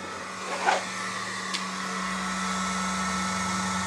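A Flashforge Adventure 3C desktop 3D printer runs indoors with a steady, quiet mechanical hum, preceded by a couple of brief soft clicks.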